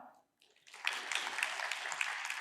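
Applause from a conference audience at a parallel session, a steady broadband patter of many hands that starts after a short pause and holds at moderate loudness.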